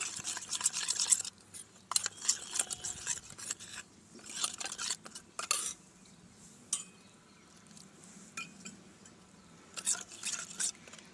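A spoon scrapes and stirs spice paste in a pot in irregular bursts, with gritty rubbing sounds, close by and without talking.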